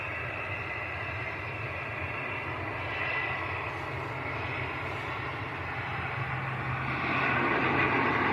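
A TUI passenger jet taxis at Manchester Airport, producing a steady, moderately distant engine roar that swells slightly toward the end.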